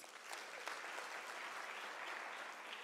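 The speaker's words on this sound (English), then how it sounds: "I request another round of applause" Steady applause from a large graduation audience at a University of South Africa ceremony, a dense even wash of many hands clapping at a moderate distance, continuous throughout with no voices standing out.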